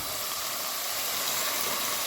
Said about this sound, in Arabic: نزيدو نخلوها تتقلى شويه